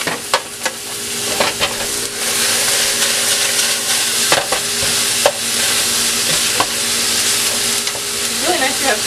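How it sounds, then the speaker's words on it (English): A hot pan deglazed with vinegar is scraped across the bottom, giving a loud, steady sizzle with scratchy stirring strokes. "scrape the bottom of the pan with it."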